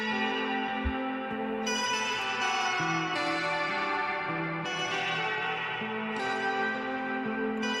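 An original guitar sample layered with a pitched-up copy, like two different guitars playing together, gives a dense ringing wash of sustained chords with shifting low notes and an echoing, effected tone, steady and alone.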